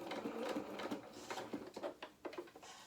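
A sewing machine stitches the shoulder seam of a small doll jacket, pivoting around the top of the shoulder. Quiet, close, rapid mechanical chatter comes in short uneven bursts with brief pauses between runs.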